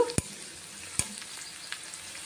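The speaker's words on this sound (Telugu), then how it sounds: "ఇప్పుడు ఉల్లిపాయ వేగడానికి కొంచెము సాల్ట్ వేసుకుందాం" Onions fry with salt in an iron kadai, a quiet, steady sizzle broken by a few sharp clicks of a spoon scraping the pan.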